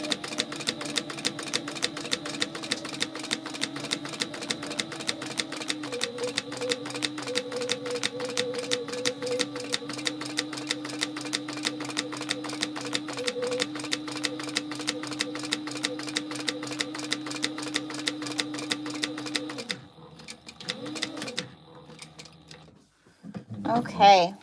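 A sewing machine runs steadily, stitching an eighth-inch topstitch on a gingerbread house gift holder, with a fast regular needle rhythm close up for about twenty seconds before stopping, followed by brief handling noises.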